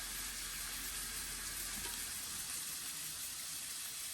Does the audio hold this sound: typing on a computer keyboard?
no